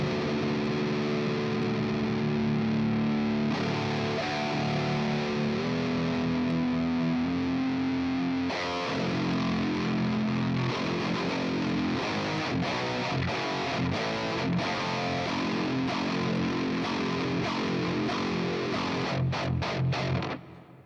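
Pitch-shifted demo sound in C standard tuning, a heavily distorted, effects-laden guitar-like tone playing sustained notes and then busier chugging passages, dense and loud throughout with no voices.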